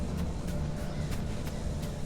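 Steady idling car engine in the game Pacific Drive, a continuous low rumble heard close and alone.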